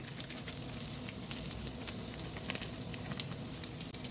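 Butter softens in a pan with cinnamon and ginger, giving a steady, quiet, even sizzle with faint crackles.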